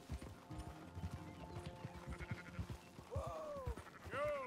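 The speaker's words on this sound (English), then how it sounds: "Faster, faster, sheeps. I don't know where we're heading, but I gotta herd you somewhere" Sheep bleating in Red Dead Redemption 2 as a flock is herded, several wavering bleats near the end over steady rhythmic hoof clip-clop from a horse, fairly close and moderately loud.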